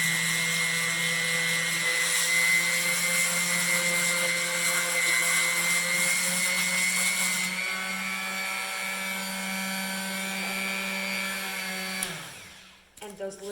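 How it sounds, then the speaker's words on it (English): Power sander fitted with 120 grit sandpaper grinding cement off a DIY concrete faux stone floor, a steady loud whirring hum with a buzzing tone that runs continuously, then spins down and stops near the end. "a little trick I've learned is to take some 120 grit sandpaper and your sander"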